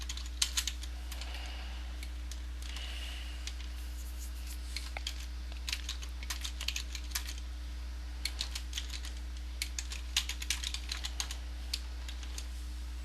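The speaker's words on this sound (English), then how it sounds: "I'm just going to go ahead and type in a statement" Typing a SQL statement on a computer keyboard: quick, irregular bursts of light key clicks over a steady low electrical hum, with no talking.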